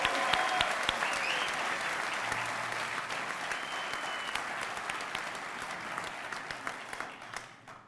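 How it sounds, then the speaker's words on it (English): Audience applause for the graduating class of 2012 at a graduation ceremony, a steady dense wash of clapping from a large crowd that holds throughout and tapers near the end. "I want to give a big round of applause to the class of 2012"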